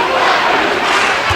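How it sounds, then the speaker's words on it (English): A sold-out crowd of about 22,700 roars loudly at a BYU versus New Mexico college basketball game in the Marriott Center, Provo: a dense, unbroken wall of cheering close around the listener. "on hand, a sold-out crowd."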